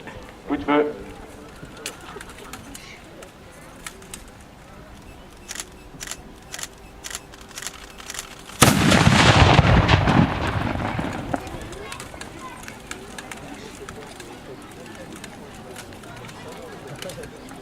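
A medieval siege gun fires at a French reenactment, a single sudden loud blast partway through that leaves a broad roaring rumble trailing off over a few seconds, with quiet crowd ambience and faint talk before and after.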